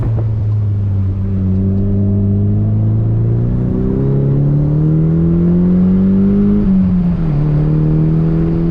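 A Nissan Silvia on a race track engine note rising under acceleration, then a downshift from third to second with a quick rev blip and pitch drop near the end, loud and close, no talking.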